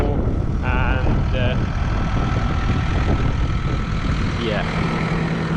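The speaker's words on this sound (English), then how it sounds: "there's a tractor" A farm tractor engine idles with a steady low rumble throughout, while someone talks close by over it.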